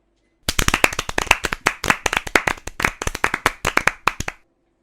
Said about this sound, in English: So I want to hear one heck of applause for him.